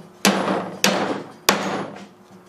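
Three sharp hammer blows drive small drywall nails, each a loud crack with a short ringing decay, spaced roughly half a second apart, close by and with no talking.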